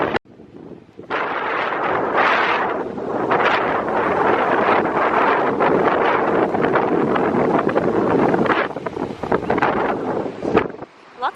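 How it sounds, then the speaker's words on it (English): Strong wind buffets the microphone on a chilly beach at Hilton Head, South Carolina, roaring in loud, uneven gusts with no real pause, and a few sharper thumps toward the end. "Super windy, a little chilly."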